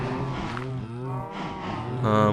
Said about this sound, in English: Oh man, the cows are loud.